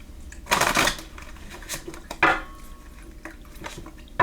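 Oversized tarot cards being shuffled by hand, with a burst of riffling rustle early on, then a second short riffle and a few softer flicks and taps, close and fairly loud against a quiet room.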